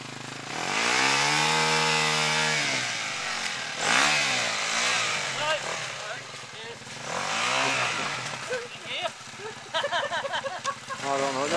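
A KTM EXC 250F dirt bike engine revs up and down in rising and falling whines, loud and close, with sharper blips toward the end while people talk nearby.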